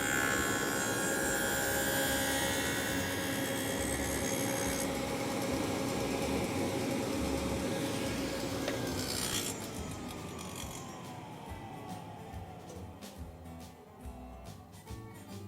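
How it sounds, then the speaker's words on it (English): Table saw fitted with a Forrest Dado King stack cutting a half-inch by half-inch dado in walnut stock, a loud steady whining cut that drops away as the blade spins down near the end. "I've got the Forrest Dado King set up to do a 1/2 inch by 1/2 inch dado in some walnut stock."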